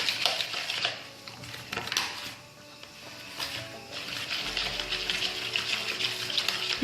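Gram flour batter mixed in a bowl with a spoon or whisk, giving soft scraping and clinking against the bowl in uneven strokes at low level, with no talk.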